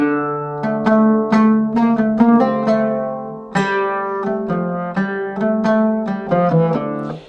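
A plucked oud plays the simple Turkish melody Üsküdar'a Giderken, notes struck one after another with a few quick ornamental runs, close and clear with no talking.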